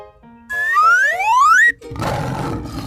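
Cartoonish lion roar effect, a loud rising, boing-like tonal growl about a second long, followed by a burst of noisy rumble, with no talk.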